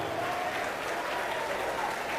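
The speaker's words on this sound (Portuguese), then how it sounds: "Aplaude, aplaude, aplaude e glorifique, aplaude e dá glória." A church congregation applauds in praise, a continuous wash of clapping from many hands, fairly distant and even throughout.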